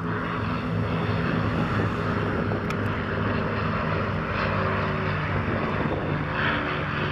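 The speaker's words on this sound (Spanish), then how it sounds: "están despegando, pero esos están como despegando y haciendo circuitos" Propeller airplanes take off and circle in circuits at the SUN 'n FUN 2018 air show, a steady loud engine drone filling the air throughout with no talk.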